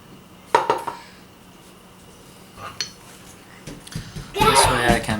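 Metal crank gear from a Honda CB175 engine's starter clutch being handled and slipped into place, giving a few sharp metallic clinks and clanks near the start, then a busier burst of clattering metal at the end.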